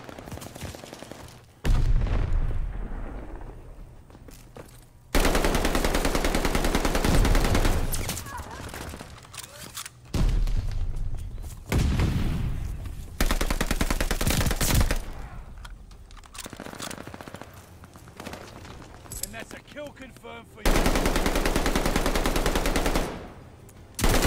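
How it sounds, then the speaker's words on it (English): A Tommy gun fires in the Call of Duty Vanguard video game in several loud, sustained automatic bursts of several seconds each, separated by short quieter gaps. "That was a Tommy gun for a second."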